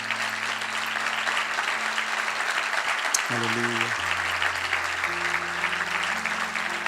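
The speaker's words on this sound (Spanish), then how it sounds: "Dale el aplauso al Señor" A church congregation applauds in a steady, dense wash of clapping while sustained organ or keyboard chords play underneath and a voice calls out briefly.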